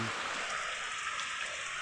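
Rain falling, a steady, loud, close hiss of drops pattering on a surface, continuous and even, with no talking heard.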